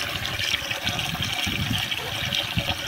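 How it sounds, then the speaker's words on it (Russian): Fish being washed under running water in a kitchen before boiling makes a steady, close splashing stream with no talking. "поэтому моем рыбу"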